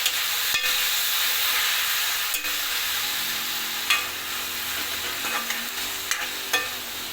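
Green chillies, onion and tomato sizzle steadily in a frying pan while a spoon stirs them, with a few sharp scrapes and taps against the pan over a continuous frying hiss, no voices.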